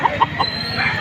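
A fighting rooster brought for sale at a poultry market in Padre Garcia, Batangas, gives short close clucks in a quick series, followed by a rising throaty call over busy market ambience.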